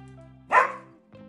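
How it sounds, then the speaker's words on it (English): A single sharp dog bark rises over a low steady hum, followed by a faint short tail of sound. "D for dog."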